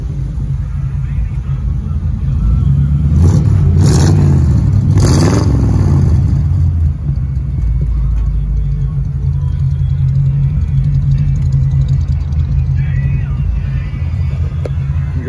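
A 1951 Ford Victoria engine idles steadily and loudly up close, a deep continuous rumble with a brief clattery swell early on, running smoothly throughout.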